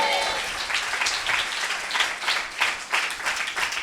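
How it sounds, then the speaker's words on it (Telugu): A church congregation claps hands together in a steady, lively rhythm, with voices mixed in under the clapping. "గట్టిగా ఆమేన్ చెబుదాం, చప్పట్లు కొడుతూ దేవుని బిడ్డలారా"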